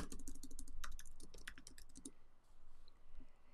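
Rapid clicking of keys on a computer keyboard, quick bursts of typing that pause and resume, close and fairly quiet with no talking.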